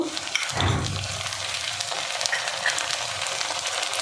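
Ginger-garlic paste frying with onions in a hot pan, making a loud continuous sizzle with a sharp burst as the paste goes in, then steady crackling.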